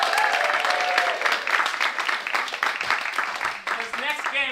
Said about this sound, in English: can we give a big round of applause for our new friend,